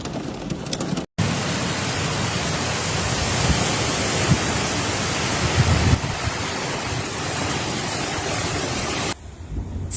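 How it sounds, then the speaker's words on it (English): A violent storm over Turin sweeps strong wind, heavy rain and hail past the microphone in a loud, continuous roar of buffeting gusts and pelting rain, with two brief dropouts. "swept by strong winds and wet by heavy rain"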